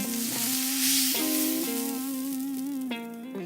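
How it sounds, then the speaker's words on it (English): A chuck roast sizzles steadily as it browns in a hot pan, a continuous crackling fry with a faint tonal hum underneath and occasional shifts as it's moved. "You just want to make sure that you brown up all sides of your chuck roast."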